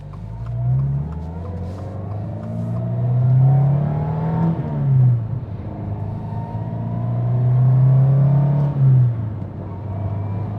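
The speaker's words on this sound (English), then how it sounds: "let's go on our first drive and see if we notice a difference with this drive shaft" Subaru STi fitted with a new carbon fiber driveshaft, driving on the road: a steady engine drone that swells under acceleration twice, each time rising in pitch and then easing back as gears change, with no talking.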